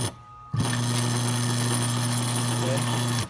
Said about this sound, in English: as you can see, this motor makes a lot of vibration